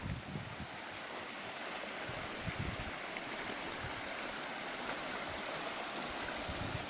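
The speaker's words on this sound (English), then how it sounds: "And over here is a creek." A creek flows along a canyon trail, producing a continuous broad rushing wash of water with some wind buffeting, steady and fairly close, with no one speaking.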